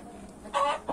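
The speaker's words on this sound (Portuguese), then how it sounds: "É um galinho bom esse aqui, cara." Young rooster on a home poultry farm giving a short close cluck, a quick throaty burst followed by a second brief note, over a quiet background.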